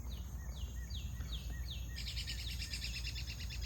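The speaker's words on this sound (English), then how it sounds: "Birds are talking or whatever they're doing. You hear it?" Garden birds singing on a morning after rain, a run of five repeated short descending chirps followed by a denser high trill, faint and a little distant over a soft background hum.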